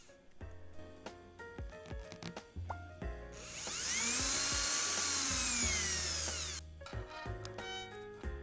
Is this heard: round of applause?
no